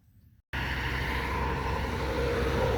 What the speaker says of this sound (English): I'm gonna have to talk really loud because of the car noise and stuff